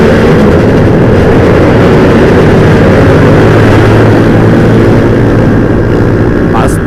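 A motorcycle with a racing exhaust revs hard at a Sunday-morning group ride, a loud, continuous, low engine roar that fills the whole stretch, with speech faintly under it.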